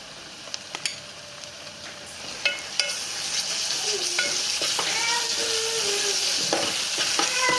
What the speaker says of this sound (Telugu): అల్లం పేస్ట్ ఉల్లిపాయలోనే ఇస్తే బాగా వేగుతుంది.